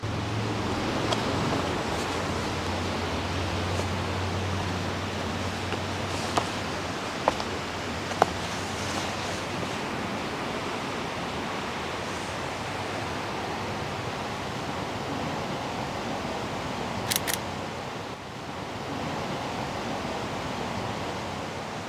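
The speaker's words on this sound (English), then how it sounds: "you can hear the cascades coming down underneath the bridge" Water cascades down beneath a bridge in Gwydir Forest, Snowdonia, a steady broadband rush that fills the whole scene with a few faint clicks and brief handling knocks on top.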